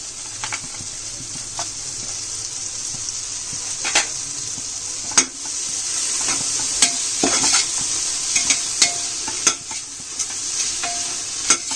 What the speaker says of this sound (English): Fry it a bit for like a minute.